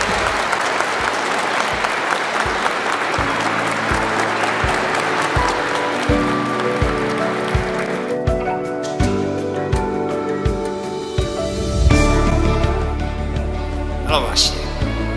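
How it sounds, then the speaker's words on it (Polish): Wedding guests break into loud, sustained applause right after the newlyweds are introduced, dense clapping filling the first half before music with a steady beat rises and carries on beneath the fading claps. "Brawa gromkie!"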